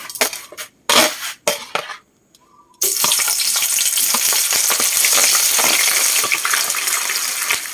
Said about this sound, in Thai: เริ่มร้อนแล้วน้ำมัน หมูยอลงก่อนเทไปเลยจ้ะทุกคน